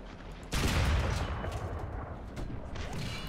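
Tank cannon and machine-gun fire from a Grant / M3 Lee in War Thunder realistic battles, a loud burst opening a sustained, dense barrage of rapid gunfire that continues throughout without speech.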